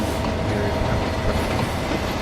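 A petroleum freight train from a train simulator game rolls along steadily, with a dense, continuous rumble and rhythmic clickety-clack of wheels over the rails throughout, loud and close, with no talk.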